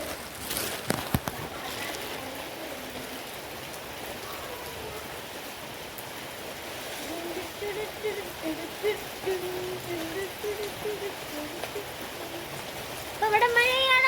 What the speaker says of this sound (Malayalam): ഇവിടെ മഴയാണ്.